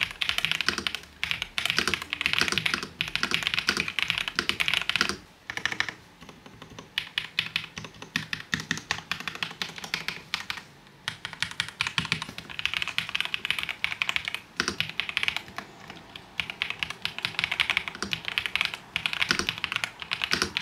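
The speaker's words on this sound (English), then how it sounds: "It comes with the linear Viridian switches that sounds amazing," Rapid, steady typing on a mechanical keyboard with linear Viridian switches, crisp clacky keystrokes close up, with a few brief pauses and no talking.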